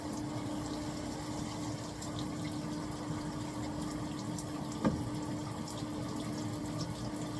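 Shower water runs in a steady, even hiss with no one talking, and a single soft knock comes partway through.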